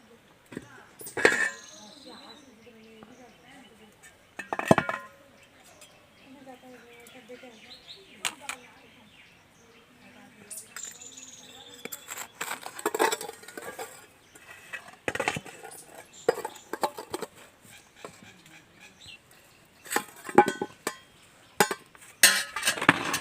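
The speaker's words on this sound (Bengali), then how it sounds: "এবার আমি ঢাকনাটা খুলে দেখবো কেমন হয়েছে" Metal clinks of a lid coming off a cooking pot on a stove, where a mango sponge cake made with flour bakes without a mould; several sharp clanks are spread across a quiet stretch with faint background sound.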